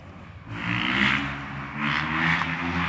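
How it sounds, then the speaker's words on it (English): Motorcycles passing on an evening street, engine drone rising and falling as a couple of bikes go by at moderate distance, heard outdoors during a walk. "The noise of the motorcycles."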